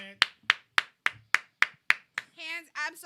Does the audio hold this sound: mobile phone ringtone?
no